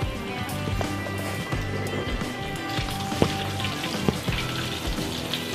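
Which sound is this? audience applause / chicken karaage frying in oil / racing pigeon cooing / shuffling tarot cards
chicken karaage frying in oil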